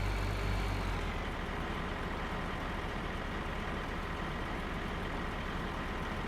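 A tractor engine in the video game Farming Simulator 2013 on the USA map, a steady low diesel drone running evenly throughout with no talking.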